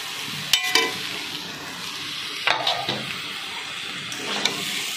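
Chopped vegetables sizzling in a hot pan with a steady hiss, punctuated by a few sharp spoon knocks and scraping stirs, close and fairly even throughout.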